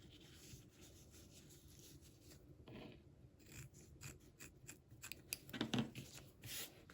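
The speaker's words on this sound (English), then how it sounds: "now I'm just going to trim off my tails" Scissors snip off thread tails on a stitched fabric wrist pincushion, a few quiet close cuts with faint rubbing between them and no talk.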